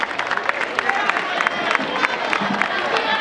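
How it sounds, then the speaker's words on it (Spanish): A loud crowd at an outdoor student-organized charity run in Fuenlabrada applauds the mayor, with dense, sustained clapping and a few cheers and voices mixed in. "Y os pido un fuerte aplauso para nuestro alcalde"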